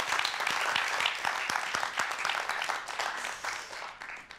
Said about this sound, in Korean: 오늘 좋은 강연 해주신 우리 선생님께 다시 한번 큰 박수 보내주시기 바라고요